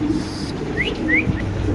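White King pigeons give soft low coos close by, mixed with a few short rising chirps over a steady hum of background noise, with no talking.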